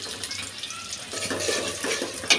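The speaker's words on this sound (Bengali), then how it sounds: "এখন আমি এই যে চেপা শুটকিগুলো ভালো করে ধুয়ে পরিষ্কার করে নিছি" Tap water runs steadily into a sink while chepa dried fish are rinsed clean by hand, a soft continuous wash with faint splashing, fairly quiet and with no talk.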